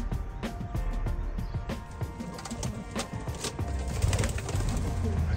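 Pigeons coo repeatedly near a homing pigeon loft on a spring day, mixed with rustling and other bird activity at moderate distance.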